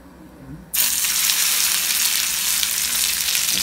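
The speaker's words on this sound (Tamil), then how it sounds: "இப்போ இது ஃப்ரை ஆகிடுது நல்லா." Masala-coated pomfret fish frying in a pan, a loud, steady sizzle that bursts in suddenly and holds alone, preceded by a brief quieter moment.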